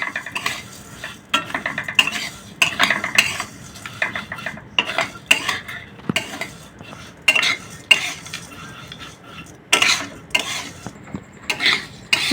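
Vermicelli being stirred and fried in ghee in a pan over low heat, with steady scraping and clinking of a spatula against the metal in uneven bursts, close and moderately loud.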